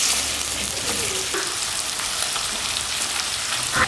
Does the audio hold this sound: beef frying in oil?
yes